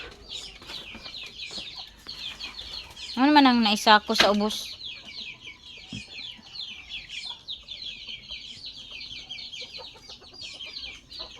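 Chickens cluck steadily in the background while someone talks, with a burst of loud squawking partway through.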